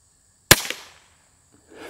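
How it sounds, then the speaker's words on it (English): A single sharp crack of a quiet .22LR round fired from a Chiappa Little Badger rifle outdoors, a short loud report with a brief ring-out, followed by near silence. "Let's see if I can make a headshot with one of these quiet rounds."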